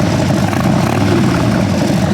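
A Harley-Davidson motorcycle with an aftermarket exhaust that is not a straight pipe lets out a steady, deep, full-bodied rumble. It runs continuously and fairly loud with no voices over it.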